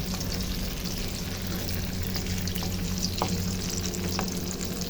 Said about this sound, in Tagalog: Now, ay pwede na nating haluin ng ganyan.